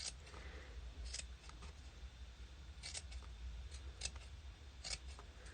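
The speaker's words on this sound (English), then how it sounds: "So we're going to cut just small pieces" Scissors snipping small pieces of fabric for a mosaic, a series of faint, crisp cuts in quick irregular bursts over quiet room tone.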